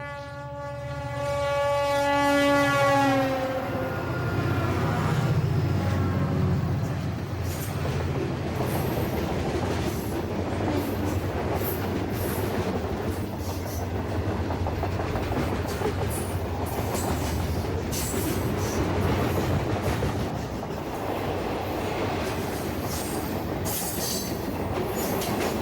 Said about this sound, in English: A Memphis to Kansas City, Kansas detour train stomps through downtown Richland on this quiet Sunday afternoon.